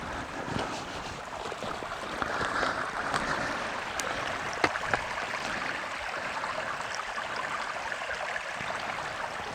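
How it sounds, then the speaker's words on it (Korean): A small mountain valley stream babbles steadily beside forested land near Chuncheon, a soft continuous trickle and rush at moderate distance with faint wind and occasional light clicks. "이렇게 이제 계곡물이 졸졸졸 흐르고 있습니다"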